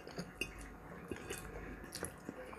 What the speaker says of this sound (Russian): Вы слышите, как вилка бьется?